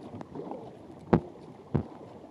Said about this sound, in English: Even though he's paddling!